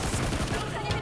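Gunfire coming from a gas station in the mobile battle royale game Knives Out, a continuous rattle of rapid shots that fills the whole moment at moderate loudness.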